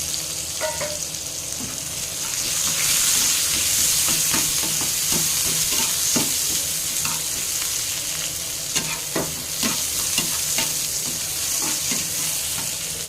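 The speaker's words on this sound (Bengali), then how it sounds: "এখন আমি এখানে দিয়ে দিচ্ছি একটা কেটে রাখা পেঁয়াজ, একটা কাঁচা লঙ্কা" Chopped onion and a green chilli fry in hot oil for a brinjal and egg dish. A continuous close hiss and sizzle carries brief clicks of a spatula stirring now and then.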